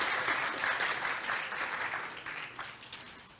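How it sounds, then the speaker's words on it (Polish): A conference audience at a networking event applauds after a presentation on optical network eavesdropping, a dense, sustained round of clapping that gradually thins toward the end. "Wielkie brawa."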